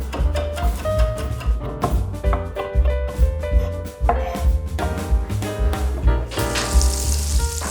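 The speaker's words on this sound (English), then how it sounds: "add a pat of butter, letting it melt until it starts to sizzle" Butter sizzles and crackles steadily in a hot skillet on a stovetop, a continuous close frying hiss with small pops and some faint clinks of cookware.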